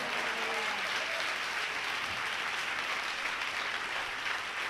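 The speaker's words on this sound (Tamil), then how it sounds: "நல்ல ஒரு கைத்தட்டு கொடுங்க" A church congregation at a Tamil worship service claps together in a sustained, even wash of applause that holds at a steady level throughout, with no voices rising above it.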